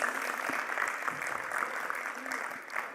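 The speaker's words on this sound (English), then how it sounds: "Let's warmly welcome him with a big, big round of applause" Applause from an audience welcoming a speaker at an agribusiness industry event, a continuous, even patter of many hands clapping at moderate loudness, with some voices faintly underneath.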